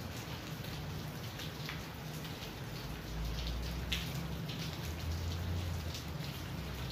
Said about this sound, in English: but of course, raining. Always.